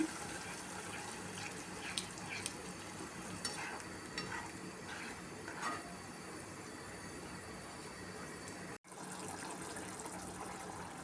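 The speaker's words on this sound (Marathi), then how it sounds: "ते आपण ग्रेव्हीमध्ये टाकूया। व्यवस्थित ते परतून घेऊया।" Whisked yogurt is sautéed into potato gravy for aloo dum, a faint continuous sizzling hiss with a few soft stirring scrapes early on, steady and close, with a brief dropout near the end.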